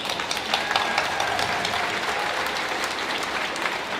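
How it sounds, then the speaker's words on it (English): Crowd at an Anishinaabe Aboriginal culture folklore festival applauding, a dense steady wash of many hands clapping, sustained and fairly loud throughout without speech. "This right here, I want to give you guys a round of applause."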